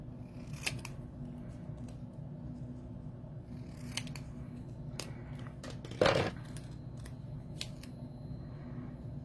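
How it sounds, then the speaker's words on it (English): Scissors trim paper for a handmade card, giving several quiet, scattered snips close by, with one louder sharp cut in the middle against a soft, quiet room background. "I'm going to trim this up a little"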